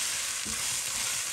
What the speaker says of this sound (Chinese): 我们开大火翻炒一会儿，炒出韭菜断生，炒出韭菜的香味儿